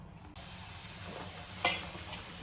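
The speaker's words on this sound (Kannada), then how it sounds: "ದ್ರಾಕ್ಷಿಯನ್ನು ಹುರ್ಕೋಬೇಕು." Raisins fry in a spoonful of ghee for dry fruit laddu, giving a soft steady sizzle that starts abruptly, with one sharp scraping clink of a stirring spoon partway through and no talking.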